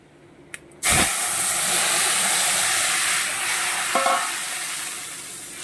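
Fish curry broth poured into hot tempering in a pan bursts into a loud, close hiss and sizzle after a couple of small clinks, then keeps steaming steadily, with a brief utensil knock near the end.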